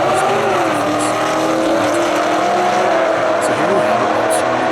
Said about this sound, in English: So this 850 horsepower Hellcat versus an 800 horsepower.